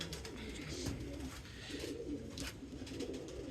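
Pigeons coo in a rooftop loft, a soft low burbling that continues steadily and fairly faint through the whole moment with no talk over it.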